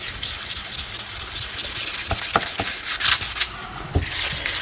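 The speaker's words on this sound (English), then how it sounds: "I'm going to do one last coat of resin on this. Before I do, I'm going to sand" Sandpaper rubs over a cured resin artwork with a turtle scene in a studio, making a continuous, close scratchy hiss with a few sharper scuffs and knocks, and no one speaking.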